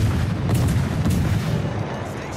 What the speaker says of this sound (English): you see me take a shot from the battleships